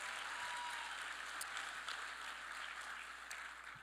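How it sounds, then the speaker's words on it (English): Audience applause at a Hall of Fame induction banquet, steady dense clapping that holds evenly and fades slightly toward the end, heard from a distance and fairly quiet. "She deserves all the applause."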